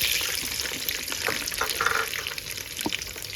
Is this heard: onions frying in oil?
yes